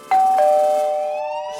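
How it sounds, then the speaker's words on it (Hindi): A two-tone doorbell chime rings once, the second tone lingering and slowly fading; nobody speaks. "घंटी बजी, फनी है ना?"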